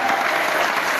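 Congregation applauding in church during a sermon, a dense, steady wash of clapping that fills the whole second without pause or voices.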